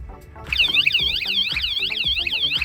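A motorcycle anti-theft alarm, triggered by its shock sensor when the handlebar is moved, wails loudly with a rapid warbling, cycling tone that repeats steadily after a brief moment of quiet.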